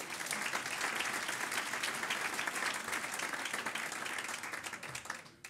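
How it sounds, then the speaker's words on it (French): An audience of around 400 people at a public political meeting applauds in a dense, steady round of clapping that holds for about five seconds, then fades near the end. "Merci Claude, on peut l'applaudir."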